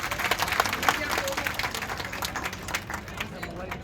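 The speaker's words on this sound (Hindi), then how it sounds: "पहले तो एक बार जोरदार तालियां हो जाए हमारी माताओं बहनों के लिए।" A crowd at a political rally in Jaipur claps and applauds steadily, dense and close, tapering off slightly toward the end.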